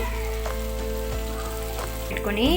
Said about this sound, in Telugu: మునక్కాయ అనేది కొద్దిగా డీప్ ఫ్రై చేసుకుందాం.